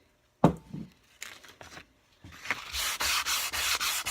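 Rust being sanded off a Craftsman ax head with 600 grit wet sandpaper and WD-40: a few scattered rubbing strokes and handling noises, then steady, loud, close scraping that continues to the end.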